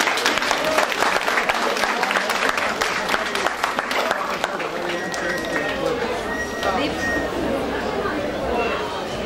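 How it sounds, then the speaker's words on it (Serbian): A large outdoor crowd at a village flower and honey festival in Kusiće claps in a dense, sustained burst of applause that holds steady for the whole stretch, with crowd chatter mixed underneath. "Velika aplauz za njega."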